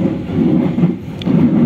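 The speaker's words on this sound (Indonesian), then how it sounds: "Saat ini untuk kereta Motis Tengah akan segera melintas langsung di stasiun Cirebon Kejaksan." KA Motis Tengah passenger train running straight through Cirebon Kejaksan station, a loud, steady low rumble of rolling cars with a brief higher screech partway through, close by and continuous.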